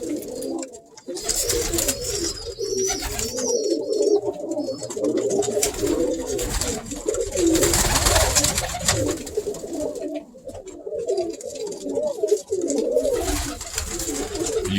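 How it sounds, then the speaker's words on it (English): Pigeons cooing in a loft, many birds at once in overlapping soft throaty calls, close and continuous with occasional wing flutters. "Some serious pigeons in here, people."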